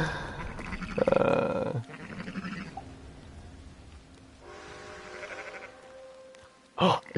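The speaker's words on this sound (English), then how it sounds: "Oh, it's the black sheep!" Black sheep bleat loudly nearby, with a long wavering cry at the start, softer bleats through the middle and a sharp final call, over outdoor rumble and no talking.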